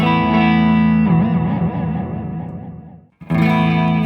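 A sustained, slightly distorted guitar tone through a digital delay wavers and bends in pitch as the delay time shifts, fades out briefly, then a bright chord returns.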